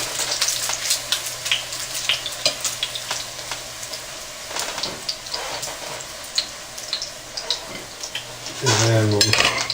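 Bacon frying in a pot for venison chili, a continuous sizzle and crackle with frequent spoon stirs and scrapes against the pot, and a louder stretch of stirring near the end.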